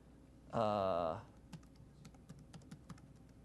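Typing on a computer keyboard to enter a username and password: a loud tonal burst comes first, then a run of light, irregular key clicks, fairly faint and close by.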